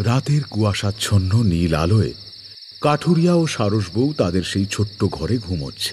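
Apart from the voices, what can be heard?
crickets chirping at night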